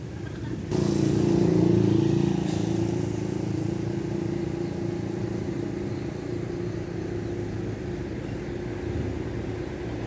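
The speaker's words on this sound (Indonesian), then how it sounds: "Tampak banyak sekali truk yang melewati Jalan Kendil Wesi ini" Heavy traffic of many trucks rolling along Jalan Kendil Wesi in Cilacap, Indonesia, a continuous loud engine and tyre rumble that swells sharply as a vehicle passes near, then settles into a steady roar.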